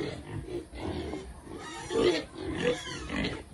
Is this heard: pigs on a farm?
yes